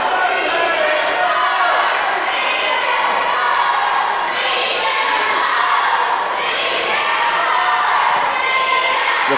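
A loud wrestling crowd in an arena in Munford, Alabama cheers and shouts throughout, a dense, continuous roar of voices with rising swells.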